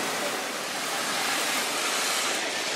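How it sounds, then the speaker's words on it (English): Water spraying onto a ceramic-coated Tesla Model Y during a car wash, a loud, steady, close hiss of rushing spray that runs unbroken throughout with no talking. "when you just spray the water, most of the dirt just slides off"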